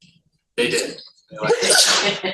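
A sneeze bursts out sharply during a board of directors meeting, followed by a second loud, breathy burst as a person speaks nearby.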